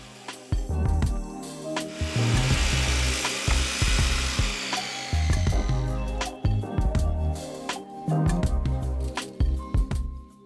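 Wood being cut for the front wing of a DIY table saw build, heard as close, loud rasping sawing strokes with knocks and clatter between passes, continuing unevenly throughout without any talking.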